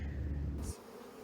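Honeybees buzz loudly and densely as they are shaken off a nucleus hive frame, a close swarm drone that cuts out abruptly partway through, leaving a fainter hum behind.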